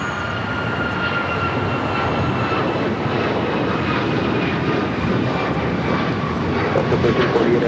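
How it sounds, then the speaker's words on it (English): An Alaska Airlines Boeing 737 MAX 9 takes off from Los Angeles airport with a steady, rumbling engine roar that swells slightly toward the end, heard from a moderate distance alongside faint talk. "Next takeoff is Alaska Airlines Flight 1348 heading to Puerto Vallarta at a 737 MAX"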